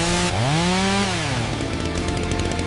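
A chainsaw roars loud and close, its engine pitch swooping up and then dropping back to a steady rough idle in an AI-generated anime movie scene.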